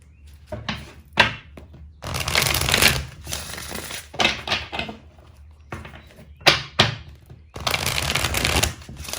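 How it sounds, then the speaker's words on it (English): Tarot cards shuffled by hand in rapid riffling bursts, several rustling flurries of varying length separated by short pauses, close and fairly loud with no talking. "I just started shuffling cards."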